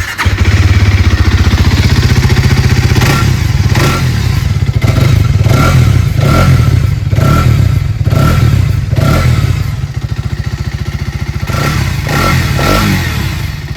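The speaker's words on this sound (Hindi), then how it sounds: "Exhaust note." A Hero Xtreme 250R motorcycle in glossy black idles loudly and close, its exhaust note rising in a series of repeated throttle blips and revs before settling back.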